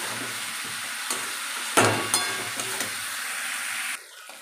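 Potatoes are stirred and fried in leftover fish oil in a pan, a soft continuous sizzle broken by a few sharp utensil clanks and scrapes, close by and fairly quiet, ending in a quieter hiss.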